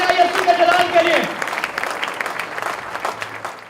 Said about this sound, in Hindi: जोरदार तालियां बजाइए यीशु के जलाल के लिए।